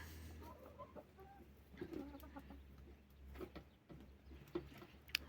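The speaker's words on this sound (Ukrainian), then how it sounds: "півничок красивенький" Soft clucking from a young rooster, a few short low calls scattered over steady background hum, fairly quiet and close.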